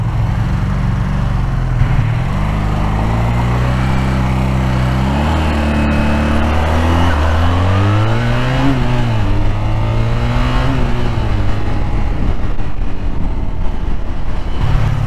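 A Honda VF500F Interceptor motorcycle engine idles high and steady, a loud, continuous close-up drone whose pitch wavers up and down slightly throughout.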